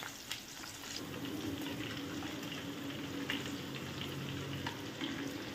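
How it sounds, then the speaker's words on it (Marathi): Slit green chillies fry in hot oil with the gas flame off, a steady close sizzle with light crackles and occasional stirring, no voices. "आपलं तेल गरमच आहे, त्यातच आपण मिरच्याही तळून घेऊया आता।"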